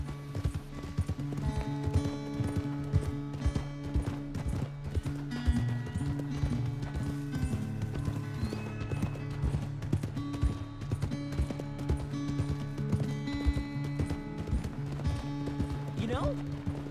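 A horse in Red Dead Redemption 2 gallops with steady, rapid hoofbeats, close and continuous throughout, under game music, with voices talking.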